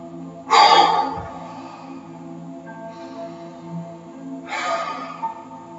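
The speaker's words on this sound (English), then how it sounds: "Take another deep breath." A deep breath drawn in during a guided meditation, a loud airy inhale near the start followed by a second, softer breath about four seconds later, over a steady low background hum.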